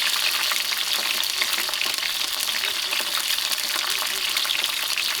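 Curry leaves and thyme sizzle and crackle in hot oil in a large pot over an outdoor fire, a dense, steady frying hiss heard close up without talking.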